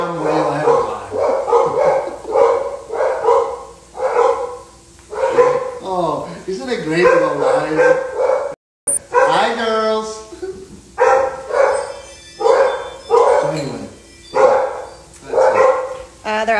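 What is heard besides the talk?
dogs barking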